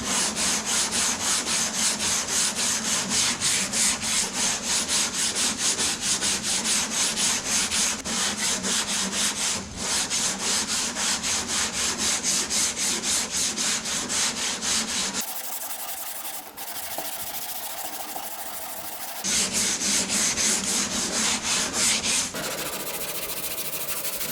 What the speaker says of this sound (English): I'm starting with 80 grit on the block sander.